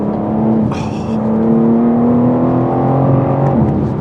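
BMW M4 CSL engine revving as the car accelerates, a loud, steady engine drone with rising tones heard up close from inside the car, with a brief higher whine early on.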